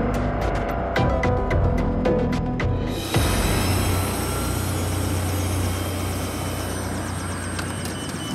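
A Westpac rescue helicopter comes in to land in Waikato. Its loud rotor beats give way to a dense, steady engine roar and whine that continues without pause.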